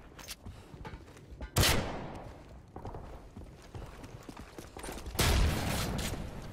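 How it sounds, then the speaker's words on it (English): Gunfire in the video game Modern Warfare 3: loud, near bursts of automatic and single shots with a sharp blast around two seconds and another heavy burst near the end, no talking. "This kid's running around shooting me for no reason."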